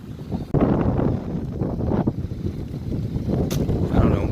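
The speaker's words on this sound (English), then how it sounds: "I don't know why it's so windy out here today" Heavy wind buffeting a microphone outdoors, a continuous low rumble with gusty fluctuations, loud and close.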